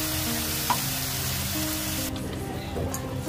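Spice paste sizzling and frying in a pan for a Bengali fish curry, a steady crackling hiss that continues throughout, close and moderately loud with no talking.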